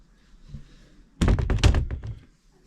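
A screen door freshly repaired with two pop rivets swings shut with a solid thunk and a short rattle, close and fairly loud in a quiet space.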